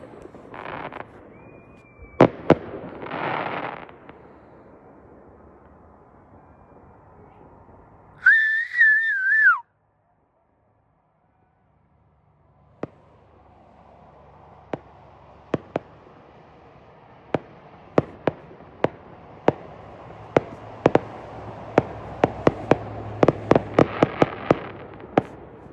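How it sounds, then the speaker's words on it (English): New Year's Eve fireworks near a house and down by a reserve: scattered sharp bangs and crackles, a rising whistle in the middle, then a quiet gap before a building run of distant pops and booms. "Good fireworks down by the reserve."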